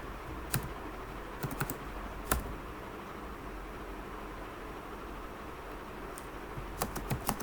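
Sparse, faint keystrokes tap on a computer keyboard as code is typed, a few isolated clicks over a steady background hiss, with no one talking.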